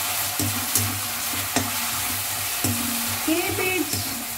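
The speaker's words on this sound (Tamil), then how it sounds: "இப்போ வெங்காயத்தை சேர்த்து வதக்கிறேன்." Onions sautéing in a pan over medium heat for a cabbage stir-fry, with a steady sizzle and several sharp scrapes of a spoon against the pan at intervals.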